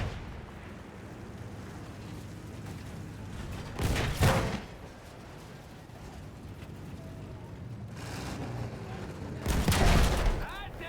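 Battlefield 1 battlefield gunfire rumbles steadily in the background, with two louder bursts of close shooting and explosions, while voices talk over the din.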